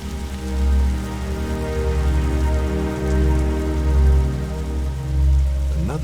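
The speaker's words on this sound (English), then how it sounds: "Is that rain?" Steady rain falls in the video game The Signifier, a continuous hiss of drops pattering on surfaces, fairly loud and close, swelling gently in waves, accompanied by a low droning hum with no speech.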